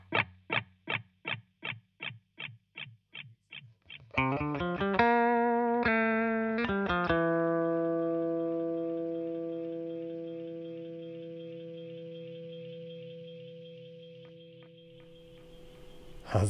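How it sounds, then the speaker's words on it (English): Guitar through a Fractal FX8 delay with feedback turned high: a run of evenly spaced plucked notes gives way to ringing chords whose repeats smear into a long, slowly fading wash. "So you can hear the feedback kind of going on in the background there."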